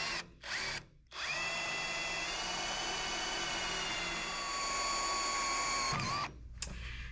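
A power drill bores through a roll cage tube for a Chevelle cage build, whining loud and steady for several seconds after two brief starts, its pitch shifting slightly as the bit works through the metal.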